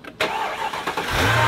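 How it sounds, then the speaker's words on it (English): A car engine cranks briefly, then catches and settles into a smooth idle after a repaired shaking fault, close and loud with no talking. "And we unlock it and start it up."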